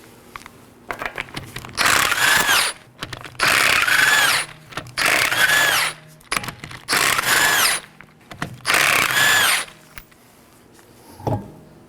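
Five long bursts of a power tool spinning off 19mm lug nuts from the left rear wheel of a 2018-2024 Chevrolet Equinox, each loud run lasting about a second with short pauses between, followed by a faint clink at the end.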